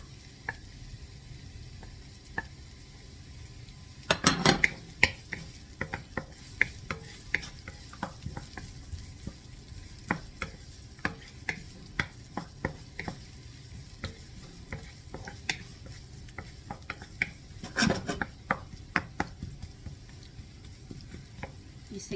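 Onions and ginger sautéing in a pan, a steady close sizzle under repeated stirring scrapes and utensil taps, with two louder bursts of clatter partway through.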